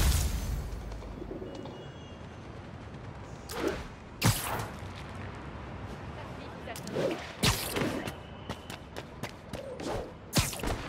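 Pigeons coo and flap in the video game Marvel's Spider-Man, with quiet cooing and several sharp wing-flap swishes scattered across the stretch, under soft spoken dialogue.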